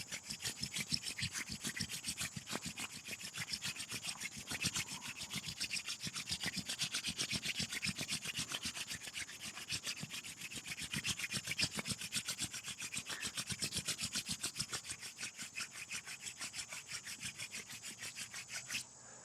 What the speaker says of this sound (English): Begin to rub your palms together and generating a little bit of heat between your hands.